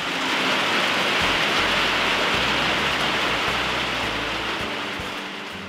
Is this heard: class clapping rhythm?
no